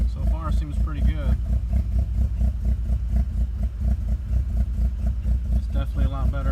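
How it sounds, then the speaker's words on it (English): A Mitsubishi Eclipse 420a engine idles steadily and close by while it relearns after an idle air control valve cleaning, its low rumble pulsing regularly throughout, with someone talking over it at times. "We're sitting here letting it idle, letting it relearn."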